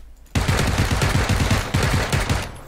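A rapid burst of automatic gunfire in PUBG erupts suddenly, loud and close, firing in quick regular shots for about two seconds before trailing off.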